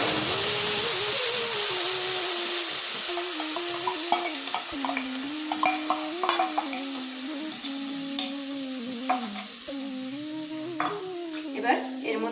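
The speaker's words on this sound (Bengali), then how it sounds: "আবারও 2-1 সেকেন্ডের জন্য নাড়াচাড়া করে নিয়ে দিয়ে দেব ধনেপাতা আর লঙ্কার পেস্টটা" Coriander leaf and green chilli paste stirred into a frying pan for begun vorta, a continuous hissing sizzle with a droning tone beneath and increasingly frequent scraping clicks of the spoon toward the end.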